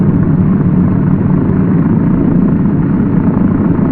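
A Douglas DC-3 piston engine roars steadily and loudly at close range just after starting, a dense, unbroken rumble with no voices.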